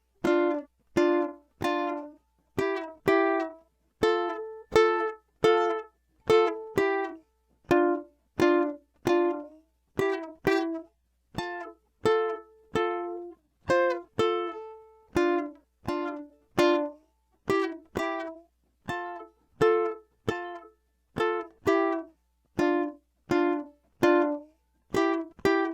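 A ukulele is fingerpicked in a steady, even pattern of plucked single notes and ringing strums for a song, played up close with no voices.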